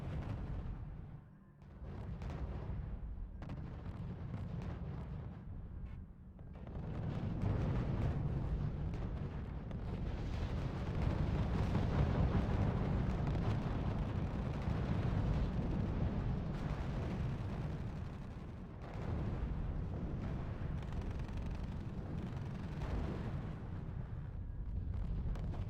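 Mortar fire and explosions in the strategy game RUSE on the Nuclear Winter map, France against Germany: a continuous, loud, rumbling din of blasts and shelling with brief dips, heavy low-end booms rolling over one another throughout.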